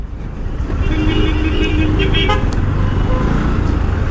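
Busy road traffic at Salem during the Yercaud summer festival, with a steady loud roar of passing cars and motorcycles, a few short car horn toots breaking through, and faint voices underneath.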